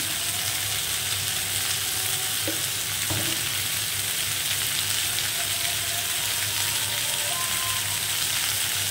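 Rohu fish curry with sliced ridge gourd, salt, turmeric and green chillies sizzles steadily in a pan, a continuous frying hiss with occasional faint clinks of a spoon, no voices.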